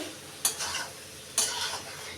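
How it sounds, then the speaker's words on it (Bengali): Two sharp spoon scrapes against a pan ring out about a second apart while a five-vegetable curry is stirred, over a faint, steady frying hiss. "এই দেখো এবার আমি একটা সবজি রান্না করছি পাঁচ সবজি"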